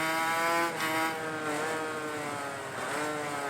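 A 500cc Grand Prix motorcycle engine in MotoGP 19 drones steadily at high revs, its pitch dipping and climbing through gear changes, loud and continuous with no talk.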